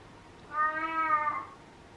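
A pet cat lets out one loud, drawn-out meow lasting about a second, close by and with no other sound around it.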